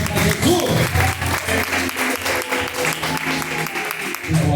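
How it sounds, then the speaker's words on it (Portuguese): Church congregation clapping loudly and steadily through the whole moment, a dense, close wash of applause with a voice or music underneath. "com as palmas bem fortes para Jesus"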